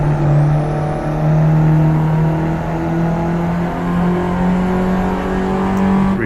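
An Abarth 500's engine revs hard in the Assetto Corsa racing game after a wrong gear change, a loud sustained whine holding high then climbing, with no talk over it.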